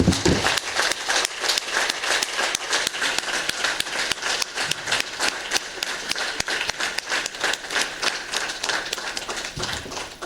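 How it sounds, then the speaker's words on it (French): An audience applauds continuously at an event in Cotonou, a dense crowd clapping that stays steady throughout without talking. "coach Patrick Armand-Poyon, notre PM, que je vous demande d'applaudir avec moi"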